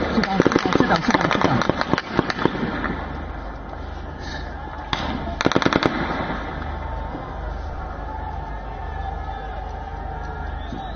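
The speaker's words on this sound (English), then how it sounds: "that's some aerial firing that is being done, constantly being done on the protesters and by the protesters" Bursts of sharp, rapid cracks from aerial gunfire during a street protest at D Chowk, clustered early and again mid-clip over a constant roar of crowd noise and commotion, with voices faintly audible.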